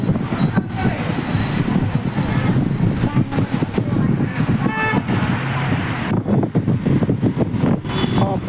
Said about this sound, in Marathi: कराड शहरात वादळी वाऱ्यासह सध्या पावसाने जोरदार हजेरी लावलेली आहे